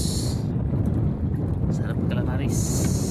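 Wind buffets a boat at sea during the northeast monsoon, a steady loud low roar that fills the whole stretch, with a few faint voices carried under it.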